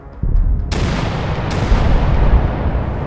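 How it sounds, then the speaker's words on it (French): A bombard cannon fires at night beneath city walls, a loud, close blast with a sharp onset followed by a long, dense rumble and crackle that stays strong without fading. "Puis il y eut une explosion, dont la déflagration illumina profondément la nuit noire."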